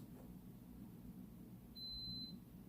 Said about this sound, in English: you hear the little beeping sound